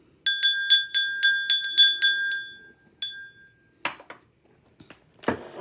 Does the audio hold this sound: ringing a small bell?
yes